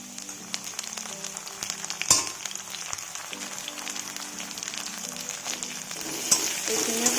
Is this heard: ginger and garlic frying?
yes